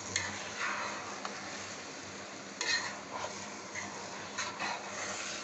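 Biryani frying in a pan while being stirred, a constant close sizzle punctuated by several short scrapes and clinks of the utensil at irregular intervals, no voices.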